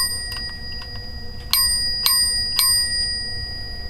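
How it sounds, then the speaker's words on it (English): A typewriter's bright metallic bell rings three times in quick succession, each ding clear and close with a short ringing decay, after a few faint clicks. "The bell still works."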